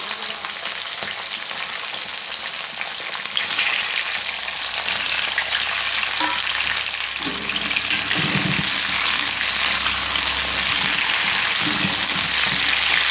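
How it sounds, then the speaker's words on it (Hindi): Chopped ivy gourd (kundru) frying in hot oil over medium heat, a steady close sizzle throughout with occasional stirring scrapes, no voices. "अब हम ये जो कटे हुए कुंदरू हैं इनको इसमें डाल देंगे और इसे मीडियम आंच पर अच्छी तरह से हम भून लेंगे"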